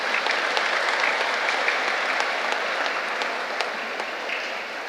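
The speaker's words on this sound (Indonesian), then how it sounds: "Kita beri tepuk tangan untuk mereka semua" Dense, steady applause fills a church after Christmas Eve Mass, many hands clapping at once for the Christmas Mass committee. It holds at an even level throughout with no voices over it.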